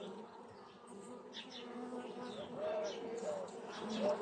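A soft, steady buzzing hum of honeybees at a hive fills the background, faint and continuous, with a few light bird coos.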